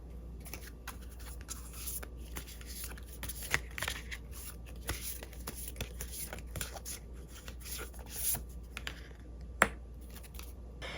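Tarot cards being shuffled by hand in soft, rapid riffles and flicks, close and fairly quiet, with a few sharper snaps along the way.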